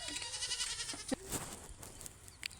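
Several goats and kids bleat, a few overlapping wavering cries up close, with quieter bleats and rustling in between.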